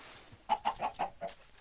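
A Minecraft chicken gives five quick clucks in a row, close and clear, followed by near quiet.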